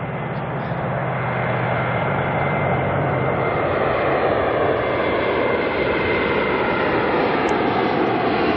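An Airbus A321neo jet arriving at Auckland airport at night from Cairns, a loud sustained engine roar with a slowly shifting whine, steady throughout with no voices.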